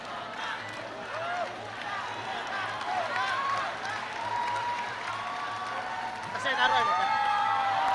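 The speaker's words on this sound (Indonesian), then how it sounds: "Tepuk tangan dulu, tepuk tangan." Crowd applause at a youth political speech rally, a steady, moderately loud clapping wash mixed with voices and a speaker talking over it.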